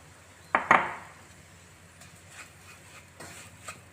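Semolina is tipped into a pan of cooking upma, giving a sharp metallic clatter, followed by a few light, scattered scrapes and taps of a spoon stirring against the pan.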